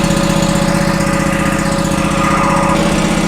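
A John Deere F911 mower engine runs steadily after a little throttle, a loud, close, even rumbling drone with a rapid pulsing beat and a slight shift in tone near the end, with no talking over it.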